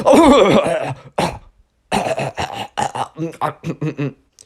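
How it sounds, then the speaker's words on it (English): A child coughs loudly in one harsh burst up close, then after a brief pause keeps coughing in a run of short, evenly spaced hacks. "kid had to cough"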